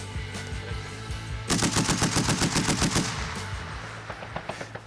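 A 12.7 caliber heavy machine gun fires a rapid, loud burst of about a dozen rounds at close range, preceded and followed by fainter distant single shots in an outdoor military setting.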